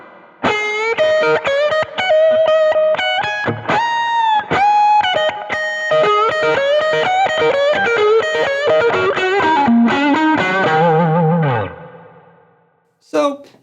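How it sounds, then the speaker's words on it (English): Overdriven Tube Screamer-style blues electric guitar played on the neck pickup through an Axe-Fx III, loud saturated lead phrases with bends and fast runs, ending in a fading note and a short final strum. "we got to try to nail down that searing blues, overdriven, tube screamer, saturated sound"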